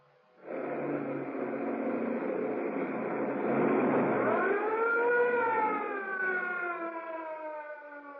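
A police car siren wails in a radio-drama chase through narrow waterfront streets, rising loud and steady, then sliding into a clear up-and-down howl that holds for several seconds before easing slightly.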